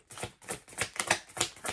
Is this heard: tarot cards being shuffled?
yes